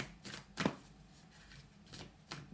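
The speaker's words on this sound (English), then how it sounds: "Let's get some more cards on this." Tarot cards being shuffled by hand: a handful of soft, brief riffling flicks spaced irregularly, with one sharper burst near the start, fairly faint against a quiet background.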